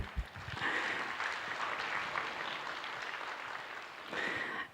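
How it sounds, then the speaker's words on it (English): An audience at an evening welcome program claps to greet seniors, a moderate, even patter of many hands lasting a few seconds, with a brief voice near the start. "we can clap"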